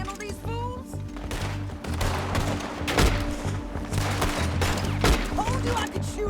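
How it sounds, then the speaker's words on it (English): Gunfire in Red Dead Redemption 2 crackles in repeated sharp volleys over a constant low rumble of game ambience and music, with several louder shots standing out through the mix. "Told you I could shoot a gun, didn't I?"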